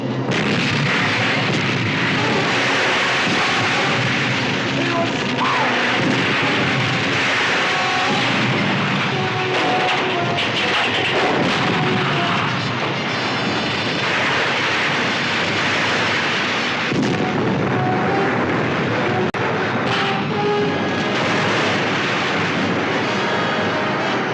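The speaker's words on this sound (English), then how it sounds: "Fire number 1 turret." Heavy gun-turret fire from a warship in a 1961 monster film: loud booming blasts and rumbling explosions roll continuously throughout, dense and sustained with no speech.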